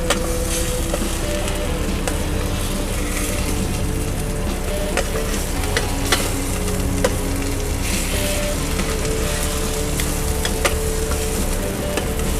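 Steak sizzling in a hot pan inside a truck, a loud, dense, continuous crackle and hiss with scattered sharp pops spitting throughout, close and unbroken, with no talking.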